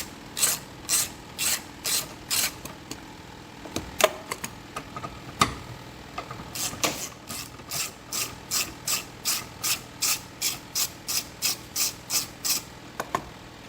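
Ratchet clicking while screws come out of a 2016 Honda Civic, with a steady run of sharp ratcheting clicks, a pause with a few clanks, then another long even series of close, crisp pawl ticks.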